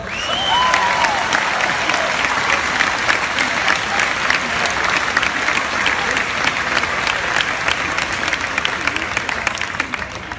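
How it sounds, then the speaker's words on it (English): Sustained applause from a graduation audience for teachers at a school ceremony: dense, steady clapping from a large crowd that continues loudly throughout, with a brief cheer or whistle near the start. "they all deserve a big round of applause"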